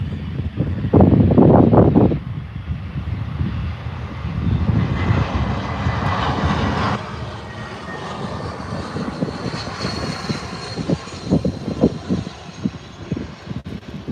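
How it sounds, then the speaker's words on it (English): A Jetstar Airbus A320 airliner arriving at Adelaide Airport, its jet engines roaring loud and close at first, then a long whooshing drone that fades and lingers with wind buffeting the microphone. "Here we are, Jetstar is arriving. A320."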